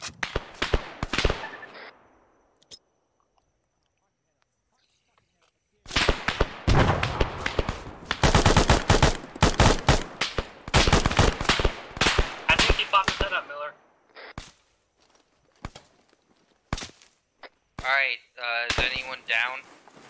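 Gunfire in a military-style video game set around securing an aircraft, with sharp scattered shots early, then long dense bursts of rapid firing, mixed with people talking over radio and short gaps of near silence.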